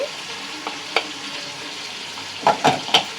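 Fish pieces fry in a pan and are turned over, a constant close sizzle punctuated by several sharp scrapes and knocks as the pieces are flipped.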